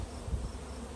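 Honeybees from a swarm catch in Michigan buzz in a low, steady drone, a soft continuous hum close by with no talking.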